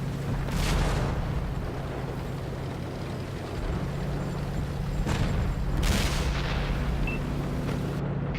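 Artillery fire in a tank video game, heavy booming shots near 0.6, 5 and 5.9 seconds over a constant low engine rumble, loud and resonant.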